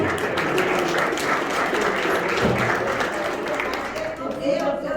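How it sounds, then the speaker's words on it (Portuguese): A church congregation applauds its pastor during a Portuguese-language Bible school service, a full, continuous burst of clapping that fills the room while a voice carries over it. "Vamos aplaudir o nosso pastor Silvio."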